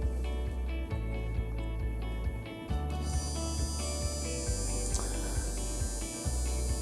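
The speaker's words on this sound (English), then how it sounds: "what I can do is I can hook that up to my electrical motor here" A small electric motor driven from a benchtop DC power supply hums and whirs steadily, with a regular ticking pulse and a brief dip before it settles into a brighter, higher whine.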